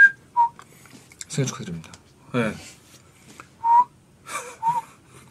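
Short whistled notes come in brief bursts between stretches of nearby speech, with laughter-like voices in the gaps.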